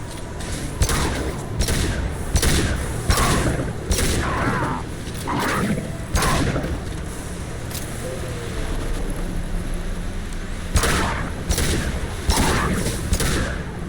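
Rifle fire in Mass Effect 2 on Insanity difficulty cracks out in loud, irregular bursts over dense, rumbling combat ambience, with shots clustered early and again near the end.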